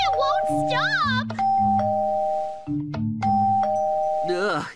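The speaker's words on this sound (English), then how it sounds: "It keeps ringing the doorbell! It won't stop!" A doorbell in the Minecraft video game rings over and over, its two-tone ding-dong chime repeating loudly in quick succession while children's excited voices talk and shout over it.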